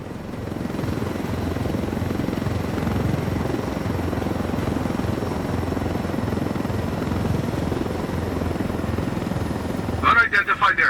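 A helicopter in Ghost Recon Wildlands drones with a steady, close rotor thrum and engine whine that holds evenly for the whole stretch, with a brief burst of a radio voice breaking in near the end.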